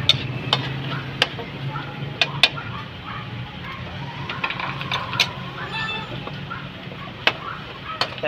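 Garlic and ginger sautéing in a pan for pastil, a soft continuous sizzle with sharp utensil clicks and scrapes, while a person talks over it and chickens cluck faintly nearby.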